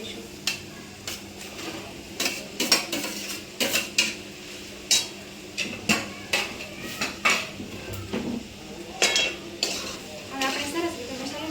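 Chopped potatoes, coriander and spices stirred in a pot, with repeated sharp clinks and scrapes of a spoon against the metal over a faint sizzle, recurring every second or so.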